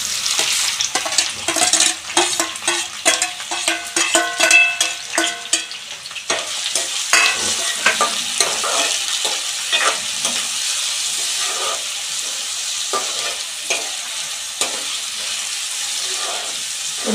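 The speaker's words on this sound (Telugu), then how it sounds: "ఉల్లిపాయలు మగ్గే వరకు వేయించుకున్న తర్వాత" Sliced onions and green chillies fry in hot oil with a steady, close sizzle, broken by stirring clatter in the first seconds before settling into an even hiss.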